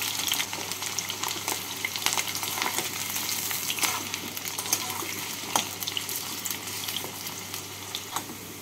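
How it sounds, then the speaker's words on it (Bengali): Potatoes fry in hot mustard oil in a wok on a gas stove, giving a steady crackling sizzle with scattered sharp pops and spatters, close and moderately loud, with no talking. "এটাকে গরম করে নিয়ে এর মধ্যে আলুগুলোকে ভেজে তুলে নেব।"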